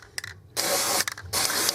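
Spray can misting paint onto the air control lever of a Jotul F600 Firelight wood stove, two hissing bursts of about half a second each separated by a short pause and rattling clicks, close and loud.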